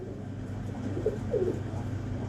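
A pet pigeon coos softly at close range, two or three low throaty burbles against a quiet indoor hum.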